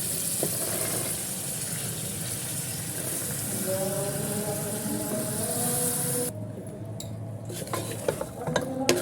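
Carrots and peas hit a pan of fried masala, producing a loud, steady sizzle that cuts off near the end and gives way to scraping stirs and clinks of a spoon on the pot.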